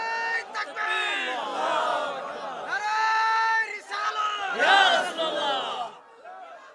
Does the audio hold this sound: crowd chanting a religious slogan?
yes